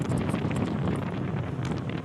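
Outdoor wind on a winter road trip in Mainpat buffets the microphone in a steady, loud rush with no one speaking.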